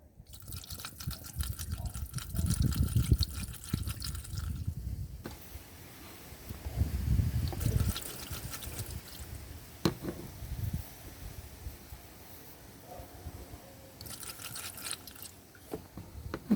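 Seafoam treatment poured from a bottle into a 2006 Ford F150: liquid glugs and trickles close up in two main bursts several seconds apart, with quieter dribbles and drips between them and no talking.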